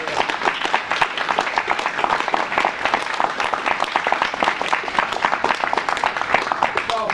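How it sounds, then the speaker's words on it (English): An audience at a political talk on the EU referendum breaks into loud, sustained applause, a thick crackle of many hands clapping with rhythmic pulses, close and steady, with voices faintly mixed in. "So let's all give him a big round of applause."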